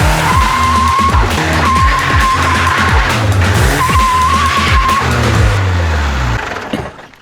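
A Rolls-Royce drift car on new cheap tyres with untuned toe alignment drifts, its tyres squealing in long repeated screeches over a loud, roaring, revving engine, close and continuous before fading at the end.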